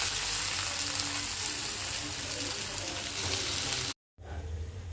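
A wild vegetable mix (katmat leaves) is stir-fried in oil with mustard seeds, producing a loud, continuous close sizzle that drops out abruptly near the end and returns softer.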